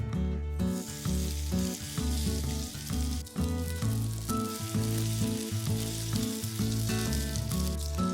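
A crispy sea-fennel and shrimp pancake fries in an oiled pan over low heat, a steady close sizzle under continuous background music.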